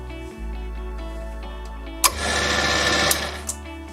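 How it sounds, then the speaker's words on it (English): A metal lathe turns in reverse while an internal threading tool cuts away from the chuck: a steady mechanical whir, then a louder, rougher cutting noise with a few sharp ticks, close by. "I used this internal threading tool on the other side to cut away from the chuck with the lathe in reverse"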